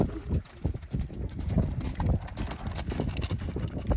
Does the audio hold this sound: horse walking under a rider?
yes